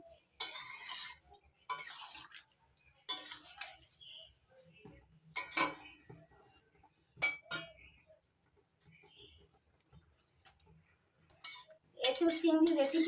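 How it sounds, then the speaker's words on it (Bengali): Ghee being stirred into a jackfruit and prawn curry in a pot, with intermittent clinks and scrapes of a spoon against metal in short bursts separated by quiet gaps, ending in a louder scraping stretch. "ঘিটা ভালো করে মিশিয়ে নিচ্ছি এটা চিংড়ির সঙ্গে"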